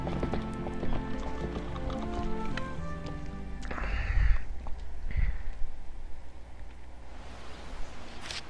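A horse's hooves clip-clop at a steady trot while riding in the video game Zelda: Twilight Princess. The hoofbeats sit under game music and fade toward the end, with no talking.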